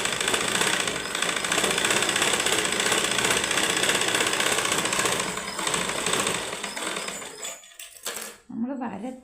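A sewing machine stitching a blouse patta, a loud, fast, steady mechanical whir and rattle running continuously for several seconds and then stopping, followed by fainter handling noises and a brief voice.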